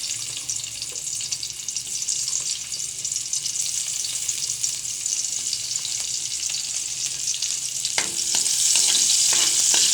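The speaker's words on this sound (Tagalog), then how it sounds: "magigisa na tayo ng sibuyas at bawang" Steady, close sizzling of onion and garlic sautéing in oil reused from frying tilapia, a constant hiss with a few clinks and stirring scrapes near the end and no talking.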